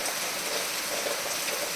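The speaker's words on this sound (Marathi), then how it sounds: "पावसानं जोर पकडला आहे बघा" Steady, dense hiss of heavy rain pouring down, constant and broadband with no pauses or voices.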